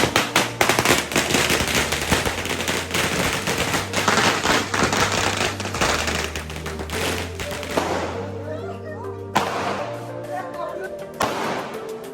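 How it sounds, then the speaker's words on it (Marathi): Firecrackers going off in rapid crackling volleys for a birthday celebration, dense bursts of pops and bangs with sharp louder cracks, close and loud, thinning out toward the end. "आता आपल्या कद्दू भाईचा बड्डे म्हणून फटाका आणायला गेलतो ना"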